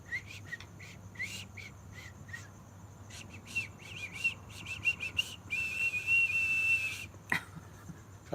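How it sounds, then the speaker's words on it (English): A nose whistle gives a series of short, high whistled tones in uneven bursts, followed by a longer sustained whistle near the end, fairly close with quiet background hiss. "What's a nose whistle?"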